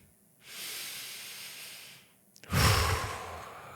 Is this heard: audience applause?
no